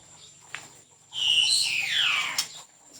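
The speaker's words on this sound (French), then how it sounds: "Ah ça c'est des cailles." Birds calling at a small village bird-rearing farm in Isan, Thailand, where quails are kept; a bright rising and falling call swells for about a second and a half, close and clear over a quiet background with a brief chirp before it.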